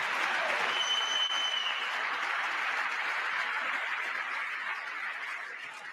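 Dense applause from a large audience in a chamber during a presidential State of the Union address, a steady loud clatter of clapping that holds for about six seconds and tapers slightly at the end.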